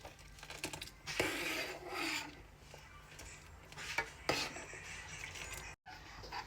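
A spoon stirring sago milk pudding (sabudana payesh) in a pot, a quiet rubbing scrape against the base in slow strokes with short pauses in between.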